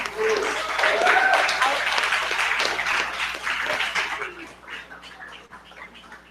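An audience at a Black Power 96 FM Black August celebration gives a round of applause, loud and dense at first, then gradually thinning out and fading.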